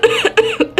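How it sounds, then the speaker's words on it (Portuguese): A person coughs in about three or four short, harsh bursts in quick succession, close and fairly loud, with no other sound around it; the cough belongs to someone poisoned by saltpetre fumes. "Há quanto tempo tem essa tosse?"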